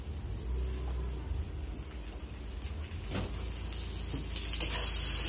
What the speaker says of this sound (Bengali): এবার আমি অল্প তেল দিয়ে দেবো, সরষের তেল কাঁচা।